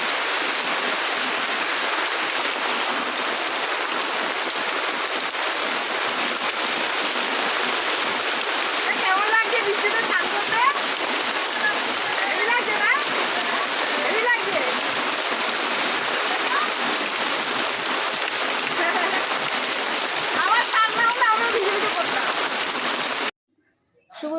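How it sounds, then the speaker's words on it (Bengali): Heavy rain pours down in a steady, loud, dense roar that barely changes for over twenty seconds, then cuts off abruptly at the end. "এত জোরে বৃষ্টি হচ্ছে"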